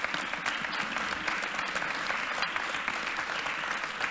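Steady applause from an audience at an accessibility awards ceremony for start-ups, greeting an influencer sponsor; dense, even clapping holding at a moderate level throughout without a break.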